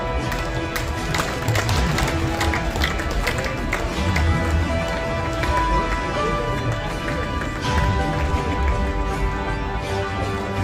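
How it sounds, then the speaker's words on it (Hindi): Sustained loud applause at an Indian government job fair ceremony, many hands clapping densely and steadily from start to finish, with a faint murmur of the hall underneath. "जोरदार तालियां।"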